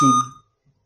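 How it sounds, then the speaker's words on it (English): A laptop sounds an error beep: one loud electronic tone with sharp harmonics that holds for about a fifth of a second, fades out within half a second, and then goes silent. No one speaks. "But the beep sound still continues."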